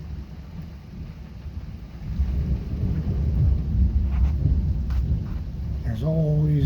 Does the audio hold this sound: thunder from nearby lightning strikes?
yes